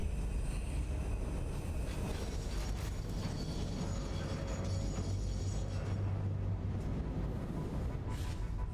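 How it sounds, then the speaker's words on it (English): A freight train in the factory-building game Satisfactory, a continuous rumbling clatter of rail wagons rolling along steadily from start to finish, fairly loud with no talk over it. "now we gotta wait for that train there to come back this way"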